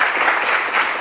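An audience claps for a sponsor at a live French event, a short, dense burst of applause heard close and full with no speech over it.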